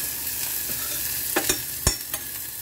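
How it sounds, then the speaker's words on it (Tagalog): Aromatics sauté in a hot pan for a squid dish, a steady close sizzle with a spatula scraping and tapping against the pan a few times. "Gisa natin yung ating ricado"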